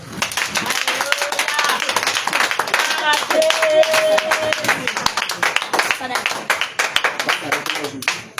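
A church congregation at an evening worship service in Korhogo claps in rhythm to acclaim the Lord, steady loud clapping mixed with singing and voices throughout.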